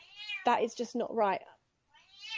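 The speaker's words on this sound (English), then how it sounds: "I'm sorry if you can hear my cat meowing in the background." A house cat meows loudly near the mic, a drawn-out cry with a second one starting, overlapping a person talking.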